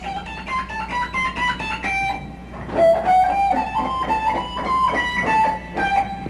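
Electric guitar lick played as a descending run of picked notes, ending in a slide down to a G, with the notes ringing clearly one after another at a steady, moderate level.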